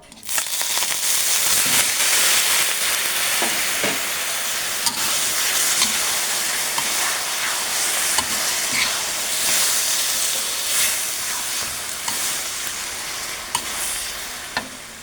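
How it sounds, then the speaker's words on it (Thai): Pork is stir-fried in foaming palm sugar in a pan, a loud continuous sizzle with rhythmic stirring and scraping that runs without a break and tapers slightly near the end. "ตาลเป็นฟองเอาหมูลงไปผัดได้ค่ะ"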